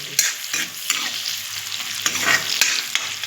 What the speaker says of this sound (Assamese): পিঁয়াজখিনি ইয়াতে তেলত দি দিছোঁ